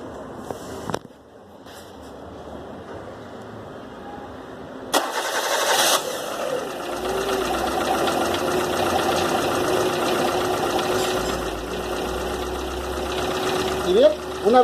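A car engine cranks and catches after a short pause, then settles into a steady idle that runs to the end. Background noise and some talk accompany it.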